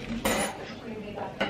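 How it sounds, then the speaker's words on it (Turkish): A spoon clinks and scrapes against a bowl while baking soda is blended into cookie ingredients, a few short sharp knocks over soft stirring, close and fairly quiet. "Tamam, şununla şöyle bir harmanlıyorum."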